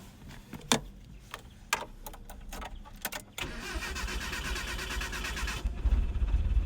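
A carbureted 1987 Mitsubishi Lancer 1800 EX GSR intercooler turbo engine is started after several clicks and rattles, cranking briefly before catching into a steady, loud idle that rises slightly at the end.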